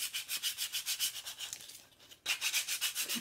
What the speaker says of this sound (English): it's so much easier with a hand sander, you guys.